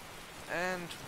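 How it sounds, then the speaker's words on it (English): Steady rain falling in Skyrim, a constant close wash of patter, with a brief voiced tone rising over it midway. "And oh my god, it is still fucking raining."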